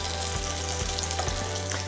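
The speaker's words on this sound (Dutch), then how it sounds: "De witlof is met de platte zijde in de pan leggen." Chicory halves laid flat side down in a hot frying pan to brown and caramelise give a steady, close, dense sizzle that continues evenly throughout, with no voices.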